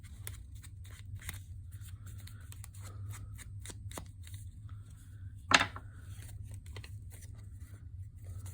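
Scissors trim paper for an envelope pocket folder in a string of quick, close snips spread across the whole stretch, with one louder, sharper cut near the middle and no talking.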